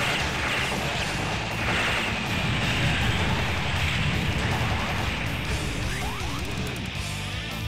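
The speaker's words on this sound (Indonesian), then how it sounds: "ini baru hujan bro" Steady, dense rain hiss from the arcade game Metal Slug 5 fills the whole stretch, mixed with faint mechanical game effects and a few brief sweeping tones.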